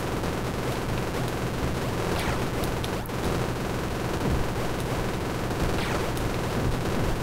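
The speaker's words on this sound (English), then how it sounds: "Just keep firing." Rapid, continuous gunfire from a machine gun in the video game Super Crate Box, a dense steady barrage running throughout at constant loudness with a few brief sweeping effects layered in.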